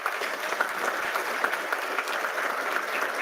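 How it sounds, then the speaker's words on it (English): A hall full of people gives a hearty round of applause for awardees at an award ceremony, dense steady clapping that continues evenly throughout. "I'd like to give a hearty round of applause to our awardees today"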